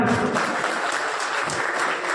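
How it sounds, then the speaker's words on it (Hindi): An audience at a Lions Club honors ceremony in Sujangarh breaks into steady, dense applause to welcome an honoree, loud and continuous throughout. "कृपया इनके स्वागत के लिए एक बार जोरदार तालियां।"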